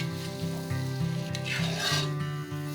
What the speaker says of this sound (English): So we'll add our coconut paste. Just saute this for a minute or two.